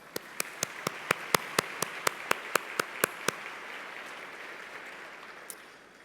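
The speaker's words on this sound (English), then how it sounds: "this is an amazing story that deserves another round of applause" Applause from a crowd with a few loud individual claps standing out in a quick steady rhythm at first, then a softer wash of clapping that gradually fades.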